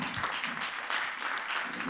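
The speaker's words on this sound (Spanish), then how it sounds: "un aplauso para él" Short burst of audience applause at an improv theatre show in Carballiño, soft and fairly distant, a brief dense patter of clapping with no talk over it.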